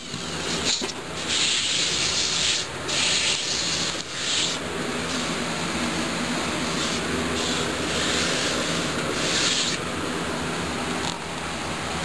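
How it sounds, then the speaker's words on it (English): Sanding the edge of a stereo speaker box for an S-10 Blazer, a steady rough hiss of abrasive on wood running for about twelve seconds with bursts of harder strokes, close and fairly loud, no talking. "I'm thinking I'm just going to sand the edge"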